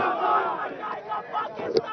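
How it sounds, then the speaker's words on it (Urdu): A political rally crowd of party youth supporters chants slogans in unison, a loud, massed roar of voices rising and falling in rhythmic bursts with a sharp shout near the end. "وہ تو یوتھ والے نعرے لگا رہے ہیں"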